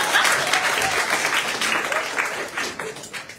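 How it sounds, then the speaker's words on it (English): Applause from a poetry reading audience at an open mic event, a steady wash of clapping from a crowd that stays fairly even and continuous throughout, slowly tapering slightly toward the end. "y'all can clap too, that's fine"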